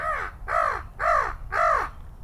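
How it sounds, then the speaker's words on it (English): A crow caws four times in a steady, evenly spaced series, each harsh call loud and close, with no other sounds around it. "That's a crow."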